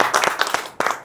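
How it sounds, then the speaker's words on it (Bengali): A studio audience claps for the winner of a game-show episode, a short burst of scattered, fairly close hand claps with no talk. "জুবাইর জন্য একবার জোরে হাততালি"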